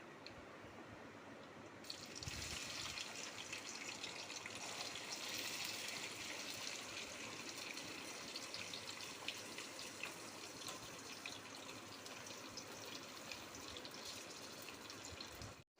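Ivy gourd pieces fry in hot oil for a garlic chili dry curry, a loud, steady sizzling hiss that starts after about two seconds and continues unbroken, with no voices.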